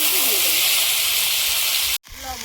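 Beans and potatoes dropped into hot oil in a kadai tempered with dried red chilies and whole cumin hiss in a steady, loud sizzle, briefly cut off near the end before resuming.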